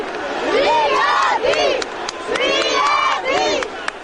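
A funeral procession crowd for Zviad Gamsakhurdia bursts into loud, rising shouts and cries in repeated waves, several voices calling out together close by over a murmuring background.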